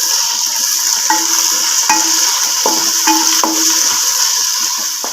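Two large tomatoes sautéing in a pan for a chickpea and potato pulao, a loud close sizzle with metallic scrapes of a spoon stirring against the pan every second or so, no speech.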